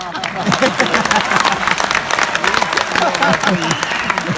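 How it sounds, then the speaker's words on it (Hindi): A live crowd at a comedy and poetry stage show claps loudly and continuously, a dense close wash of applause that fills the whole stretch, with some crowd voices mixed in. "मेरे स्वागत में दोबारा जोरदार तालियां बजाएं।"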